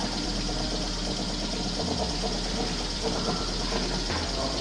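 A DC generator runs in a lab practical, a loud, steady engine-like hum and rumble filling the whole stretch with slight low dips, no speech over it.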